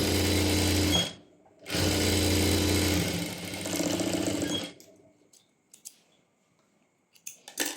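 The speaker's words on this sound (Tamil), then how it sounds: "இங்கே இந்த எட்ஜில் இன்னொரு ஸ்டிச் கொடுத்துக்கலாம் கொஞ்சம் ஸ்டிஃபாக இருக்கிறதுக்காக" A sewing machine stitches along the edge of a pair of pants in two loud mechanical bursts with a short break between them, then gives way to quiet handling clicks and rustles.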